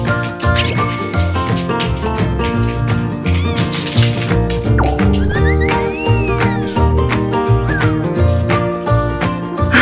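Several short, high-pitched cat meows rise above a loud musical background with tinkling tones, the mews coming in a few scattered bursts.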